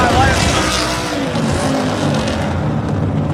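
Car engine screaming at high revs during a tire burnout at a burnout competition in Bradenton, Florida, a loud continuous roar with tire squeal, crowd noise and an announcer talking over it.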